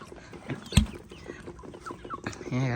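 Chickens on a rural rice farm cluck in short bursts close by, with a louder squawk partway through and a brief higher call at the end, over quiet background noise.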